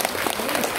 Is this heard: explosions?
no